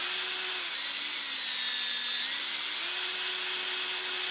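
Rotary drill sound effect: a steady, high-pitched whine running continuously, with the pitch dipping slightly and then recovering, loud and alone without any talk.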